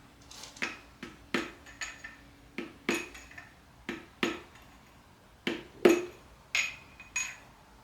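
A ratchet extension repeatedly whacks a connecting rod bolt during crankshaft removal, about a dozen sharp metallic clanks in an uneven rhythm, close and clear with no talking.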